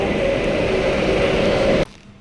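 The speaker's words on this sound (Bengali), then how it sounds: "আসছে ট্রেন, মানে মেট্রো" A metro train rolls past at close range with a loud, steady broadband rumble and a faint tonal whine, holding level for almost two seconds before cutting off abruptly.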